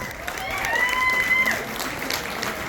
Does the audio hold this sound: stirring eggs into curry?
no